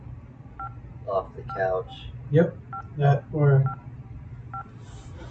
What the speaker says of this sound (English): we're calling the vet to have her dog fixed